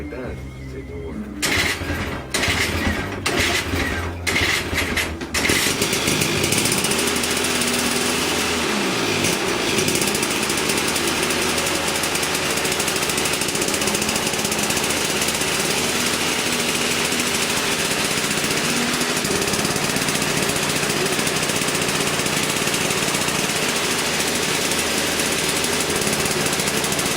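A snow blower's small engine catches after being choked, a few sharp sputtering bursts giving way to a steady, loud, high-pitched running drone that holds close and unbroken to the end.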